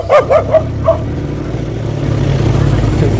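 A few quick, high yips from a puppy in a short burst, then a low rumbling background like passing traffic.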